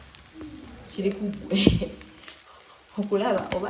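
Eggs and rice fry in a pan with a steady sizzle and occasional stirring scrapes, while a person talks over the cooking.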